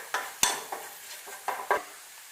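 Pizza sauce with pepper powder being stirred in a pan, a spoon scraping and tapping in five quick, separate strokes over a soft background sizzle, close and moderately loud.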